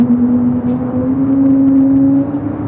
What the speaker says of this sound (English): Delta A321 Neo now rolling down to 24 to the left.